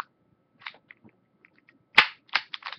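A Beretta M9 green gas airsoft pistol fires at close range, a sharp crack with its pellet smacking a wall, followed by a few quicker snapping reports and light handling clicks.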